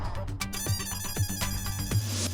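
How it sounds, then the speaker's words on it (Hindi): A phone ring tone chimes in a repeating electronic pattern, steady and moderately loud, with no talking. "मैं मेहता अंकल को फोन लगाता हूँ, तू अय्यर अंकल को फोन कर।"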